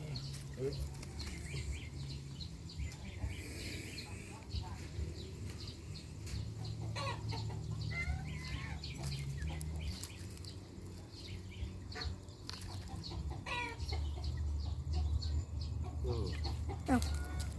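Chickens clucking repeatedly at moderate distance, with scattered bird calls and low background rumble, no clear talk.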